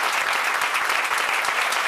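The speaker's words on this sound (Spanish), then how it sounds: "una ovación de estas, pero de romper las palmas" Audience applause at a Rayo Vallecano tribute, a dense, steady ovation of many clapping hands with no pauses.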